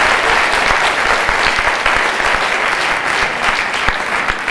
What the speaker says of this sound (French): Donc je vous propose spontanément de vous applaudir.